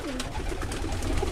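Birmingham Roller pigeons cooing in a loft, soft repeated throaty coos overlapping one another at close range against a dense low hum, with no voices.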